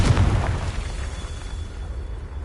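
A single Confringo spell explosion from the video game Hogwarts Legacy gives one loud, deep boom at the start, and its rumble fades away over the next two seconds.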